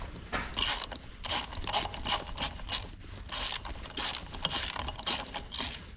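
Ratchet wrench clicking as bolts are removed from the fan area of an Allis Chalmers B tractor, repeated close bursts of rapid pawl clicks in an uneven rhythm.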